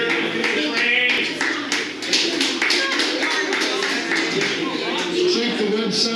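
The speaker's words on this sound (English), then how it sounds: "Frank, big round of applause here." Applause from an audience at an Arizona Breakfast Club meeting: steady, dense clapping that fills the whole stretch at close range, with voices talking over it.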